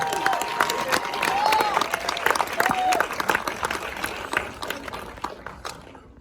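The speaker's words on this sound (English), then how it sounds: "Let's do another applause" An audience at a movie premiere applauds, a dense wash of clapping with a few cheers that builds and then thins out over several seconds.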